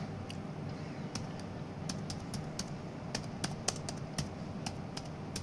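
Values are typed into an Excel spreadsheet on a computer keyboard, with close, crisp key clicks in irregular bursts and short pauses over a quiet room hum.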